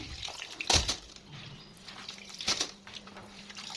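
Coriander seeds are washed by hand in a bowl of water, with sloshing, swishing and a couple of sharper splashes as the water is stirred and poured, fairly quiet and close.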